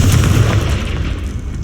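A loud, deep boom from the Confringo fire spell bursts in the Hogwarts Legacy video game and fills the whole short moment, rumbling and then slowly fading.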